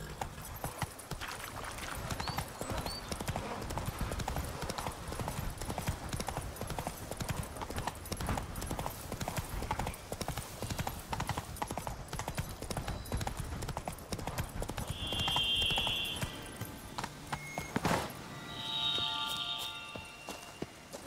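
Roach, Geralt's horse in The Witcher 3, running with a fast continuous clip-clop of hooves for most of the stretch, fairly close, then slowing near the end as other game sounds and chimes come in; faint voices now and then.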